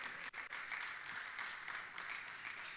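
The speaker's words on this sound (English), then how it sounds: "A round of applause for him." A conference audience at an investment summit and demo day applauds as a speaker walks to the stage, a steady, dense wash of clapping heard from a distance.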